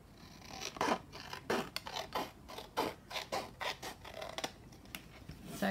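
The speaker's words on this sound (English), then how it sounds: "just manually cutting it with the scissors" Hand scissors cut through paper for a simple craft pocket. Snips and crisp rasping strokes follow in an uneven rhythm, close and fairly quiet, with no talk.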